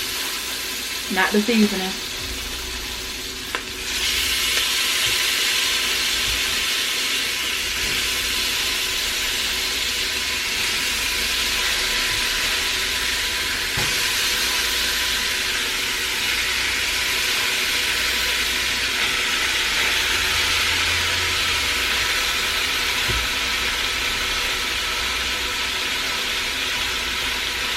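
Oxtails sear in a hot pot for a Jamaican curry, giving a steady, loud broadband sizzle that runs the whole time, with brief clatters near the start and a few words of talk over the frying.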